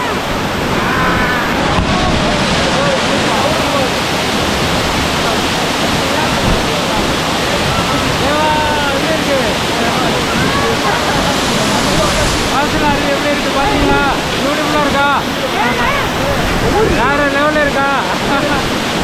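Masila Falls in the Kolli Hills pours in a loud, dense, unbroken roar of rushing water heard close up, with a person's voice faintly mixed in partway through.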